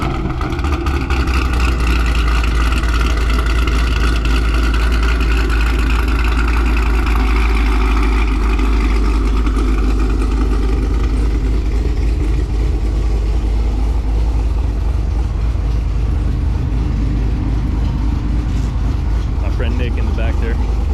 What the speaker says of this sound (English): I'm going to start it up real quick and let you guys hear the cam.